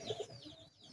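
Pigeons kept in a village coop give a couple of soft, low coos close by, brief and quiet against faint background ambience.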